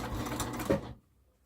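A sewing machine runs for under a second stitching the corner of a seam on an upcycled fabric project, a quick close whirring burst that stops abruptly into quiet.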